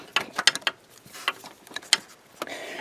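A ratchet wrench clicks in short bursts during an oil change on a Chevy Equinox, with quick metallic pawl ticks in uneven runs and brief pauses between them, close and fairly crisp.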